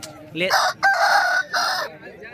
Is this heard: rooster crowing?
yes